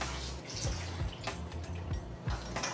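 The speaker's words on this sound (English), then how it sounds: "And then we're gonna take 16 ounces of bone broth." Sixteen ounces of bone broth poured over mixed stuffing in a baking dish for a Thanksgiving meal, a soft, quiet liquid trickle and splash with a few drips, close by and without talk.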